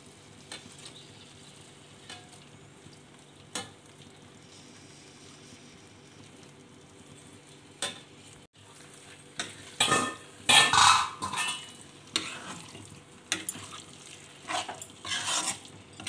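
Potatoes sizzle and fry in a pan for a potato curry, a low steady crackle at first that swells into louder bursts of stirring and spatter toward the end, with no one speaking.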